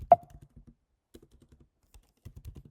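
Code typed on a computer keyboard, short bursts of crisp close key clicks in irregular clusters separated by pauses, alone and fairly quiet.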